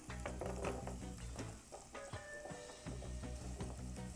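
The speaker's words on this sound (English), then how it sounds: "Stir it around in there, get it coated with that butter or oil" Celery frying in canola or olive oil in a pot, a close, steady sizzle with scraping stirs throughout.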